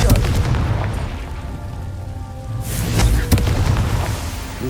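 A Confringo spell blast from the Hogwarts Legacy video game, heard as loud, booming explosive bursts over continuous rumbling game noise, with a sharp burst around the middle.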